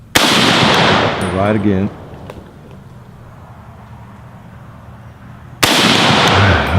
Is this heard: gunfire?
yes